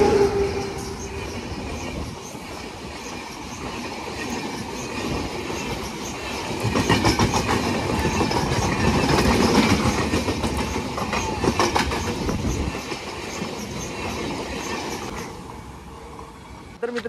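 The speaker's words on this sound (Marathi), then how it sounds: "परत आली आहे ट्रेन" A passing train, with an Ernakulam board on its rear, rolls along the rails with steady clickety-clack and rumble. It builds to a loud peak midway, then fades slightly. No one speaks.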